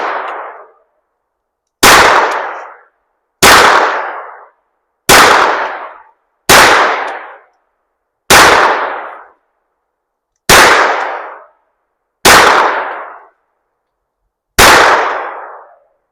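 A Hi-Point 1095 10mm carbine fires nine loud, sharp shots at steel targets, each crack ringing out with a short decay, spaced irregularly about one to two seconds apart.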